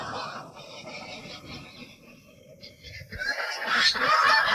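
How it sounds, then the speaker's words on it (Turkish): Ducks and geese kept outdoors in Erzincan honk and call in a noisy cluster that grows louder toward the end, with people talking faintly in the background. "burada evet, ördeklerim var"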